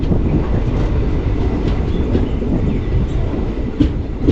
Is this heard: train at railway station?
yes